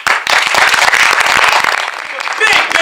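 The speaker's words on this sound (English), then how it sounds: "Big round of applause for Trudy." Loud, dense applause from an audience after a performance, rapid overlapping claps with a few sharper cracks, sustained and close throughout.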